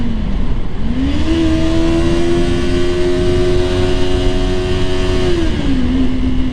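A Kawasaki Ninja 400 motorcycle engine revs up, holds a high steady drone for a few seconds, then drops in pitch as it shifts into second gear, with constant road rumble throughout.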